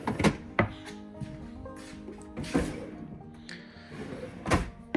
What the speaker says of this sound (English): God, I just like the way these drawers close.